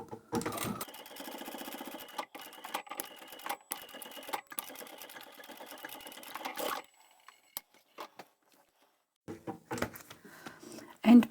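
A sewing machine stitches leather in rapid rhythmic bursts for several seconds, stops, then gives short clicks and handling noises nearby.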